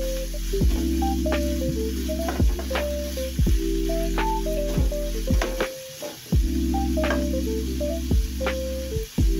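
Vegetables for pancit bato stir-fried in a pan, a continuous sizzle broken by repeated scraping strokes of the spatula in an uneven rhythm, close and clear over steady background tones.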